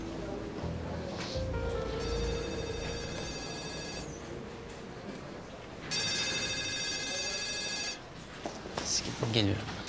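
A telephone ringback tone sounds while someone places a call, two steady electronic ring bursts of about two seconds each, separated by a pause, over faint background noise, with a voice briefly at the end.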